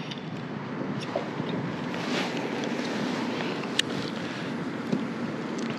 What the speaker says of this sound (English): the wind is crazy right now. It's just blowing on to me